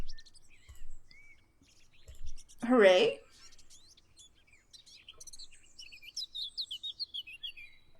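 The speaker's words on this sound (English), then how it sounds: "You are loud, Mr. Bird." A game bird chirps in a park on a Sunday morning, with short bright tweets trailing off into a rapid run of calls toward the end. It is faint and stays in the background after a brief spoken exclamation.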